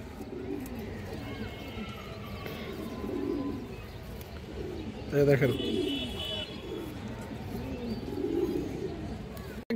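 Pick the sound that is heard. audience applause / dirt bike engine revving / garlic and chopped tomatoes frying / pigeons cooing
pigeons cooing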